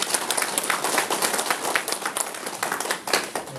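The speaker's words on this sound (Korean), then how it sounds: "큰 박수로 환영해주십시오." Applause welcoming guests at a Buddhist college entrance ceremony at Samhwasa temple in Donghae, a dense, steady round of hand-clapping from a crowd lasting throughout, loud and close with no speech over it.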